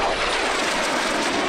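A T-2 Buckeye jet trainer from the 1950s flies overhead at a vintage warbird airshow, giving a steady, loud broadband roar that holds unchanged throughout.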